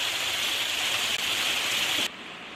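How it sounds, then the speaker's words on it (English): Steady rain hisses on a surface close by, a dense even wash that cuts off abruptly near the end. "We've got a bit of rain coming"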